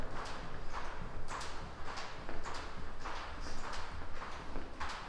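Footsteps echo through an empty college building: a steady series of hard heel strikes, evenly paced at about two per second, reverberant and fairly close, with no talking.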